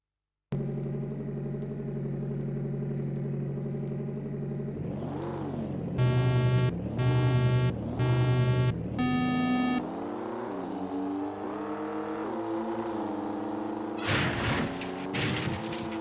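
Racing car engines from the PlayStation game Rallycross, steady low droning with several rising and falling revs and a burst of short repeated high-pitched tones, continuous and fairly loud throughout with no talk.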